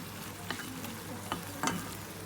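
Food frying in a hot pan while biryani is prepared, a constant close sizzle with a few brief clicks and scrapes as it is stirred, and no voices.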